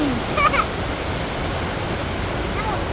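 Fast river water rushes beneath the Panposh bridge in a loud, constant roar, with brief voices near the start.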